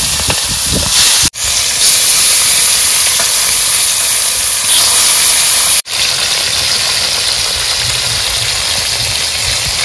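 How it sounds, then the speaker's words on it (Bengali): Fish frying in hot oil makes a loud, close, continuous sizzling hiss that runs throughout, broken by two brief dropouts. "তেল গরম হয়ে গেছে, মাছ ছেড়ে দিলাম।"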